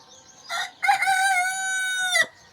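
A rooster crows loudly and close by on a village morning among hens, one long harmonic cock-a-doodle-doo that rises, holds and drops off sharply, with a shorter call just before it.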